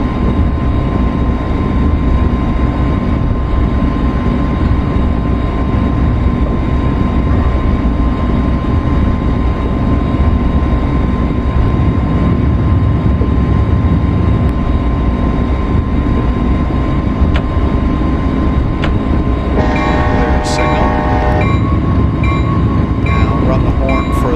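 A MARC Penn Line commuter train between Washington DC and Baltimore slows on dynamic brakes, giving a loud, steady rumble and drone throughout, with a brief high tonal whine late on.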